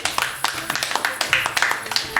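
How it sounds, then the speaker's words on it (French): A handful of people clap at a board game session of Dixit, a quick run of distinct, separate hand claps close by, loosely rhythmic rather than a massed roar, with voices faintly around it. "on applaudit le fair play"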